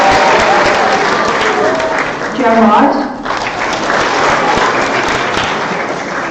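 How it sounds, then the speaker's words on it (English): An audience at an awards ceremony applauds loudly and continuously, with a broad crowd clapping that fills the space while a voice briefly speaks over it midway. "we can clap them all I think too"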